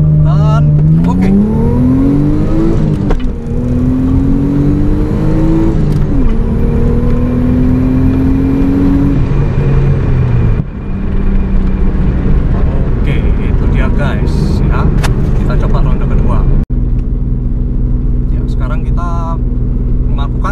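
A Mitsubishi Galant VR4 engine revs hard as brake-boost antilag builds, with loud rising and held engine tones that break off into crackling pops and bursts, close and continuous, while a person speaks at times.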